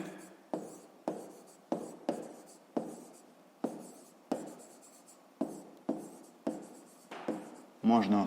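A pen writes digits by hand on paper, a series of about a dozen short scratchy strokes in an even rhythm, close and quiet, with a voice speaking in between.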